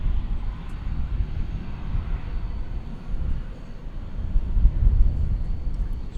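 Distant low rumble of an American Airlines jet taking off from runway 18 left at DFW Airport at night, a broad steady roar rising and falling slightly under gusty wind noise.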